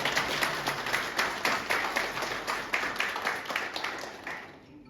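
Sustained audience applause at a soldiers' honour ceremony in Kotdwar, greeting the chief guest, a Garhwal Rifles brigadier. Many hands clap in dense, slightly pulsing waves that carry on steadily before fading out at the end.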